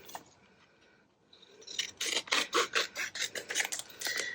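Scissors snip through repurposed junk mail paper for a Christmas craft, a quiet start giving way to a close, rhythmic run of crisp rasping cuts.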